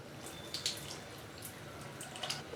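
Tamarind water poured into a simmering garlic and curry leaf curry, a soft steady liquid trickle with a few light splashes and drips, quiet and close with no talking.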